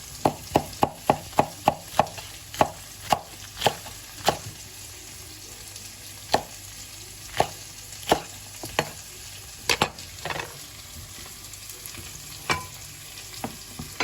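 Peppers being chopped with a knife on a cutting board: a quick run of sharp, crisp chops, then slower, irregular strikes, close and clear with no one talking.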